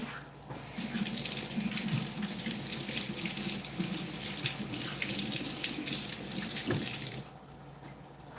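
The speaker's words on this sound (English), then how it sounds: "Let me wash my hands." Hands being washed under a running kitchen tap, a steady splashing stream into the sink that continues for about seven seconds and then cuts off, with no talking.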